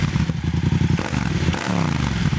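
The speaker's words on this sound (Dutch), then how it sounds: "Dames en heren, hier voor ons zie je de Yamaha MT-07 met een MIV-uitlaat, MIVV. En dat maakt echt dik geluid." A Yamaha MT-07 motorcycle fitted with an MIVV exhaust rumbles up close, its deep, pulsing engine note loud and continuous with a brief shift in pitch partway through.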